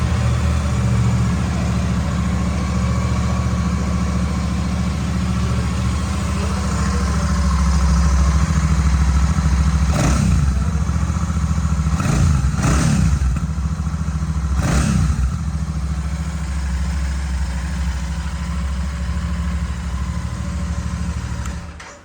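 A Royal Enfield Bullet 650 parallel-twin burbles steadily at idle through its exhaust, loud and close, with a few sharp blips of the throttle rising in the middle before settling back.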